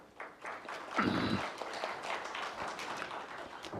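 An audience at a policy forum on support for people with developmental disabilities applauds a university professor, with a short burst of scattered clapping that is moderately loud and soon fades under murmuring.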